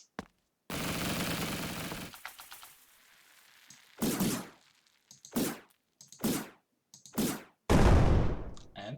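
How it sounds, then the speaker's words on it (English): Explosion effect spawned in an ezEngine game: one long roaring blast followed by a rapid series of sharp, punchy bursts and thuds, loud and close with brief gaps between hits. "It spawned the explosion with the sound and so on"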